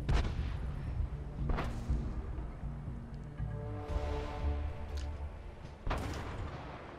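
Tank cannon fire in the video game World of Tanks, with several loud booming shots spread across the clip over a constant rumbling battle background.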